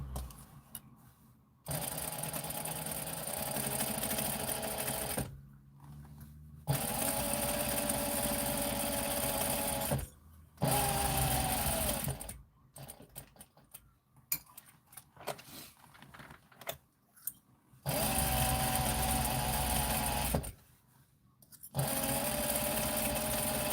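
A sewing machine stitches in repeated bursts of several seconds each, whirring and rattling at close range, with short quiet pauses between runs while inventory and orders are worked on.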